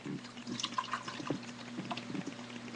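Homemade macaroni and cheese poured into a crock pot, giving soft, close wet plops and sloshing drips in short irregular bursts at low level, with no talking.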